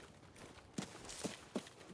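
Three soft footsteps land at a steady pace overhead in the shooter game Arena Breakout, muffled and fairly distant, over a low ambient hum with no talk.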